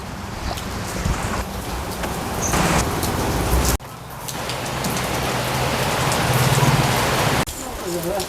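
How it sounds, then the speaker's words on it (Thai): Heavy rain pours down onto a rural outdoor cooking spot, a loud continuous hiss of drops on surfaces with shifting intensity and a brief break midway. "ฝนตกแล้วครับพี่น้องเอ้ย"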